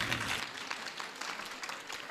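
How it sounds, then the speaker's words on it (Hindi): Audience at a Hindu religious discourse clapping hands, a short burst of scattered clapping at moderate level that fades slightly over a couple of seconds. "ताली बजाओ इनके लिए"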